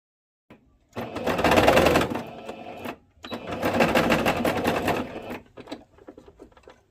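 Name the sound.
sewing machine stitching straight seam on elastic skirt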